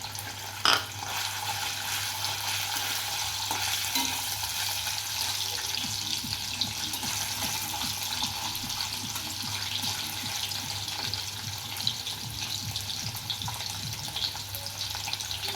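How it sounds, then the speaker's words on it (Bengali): Paneer fries in hot white oil in a wok with a steady close sizzle and crackle, quiet and constant throughout, with no talking. "আমি এর মধ্যে পনিরটা দিয়ে আমি লাল লাল করে ভেজে নেব"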